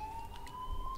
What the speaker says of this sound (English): what's up with the ambulance?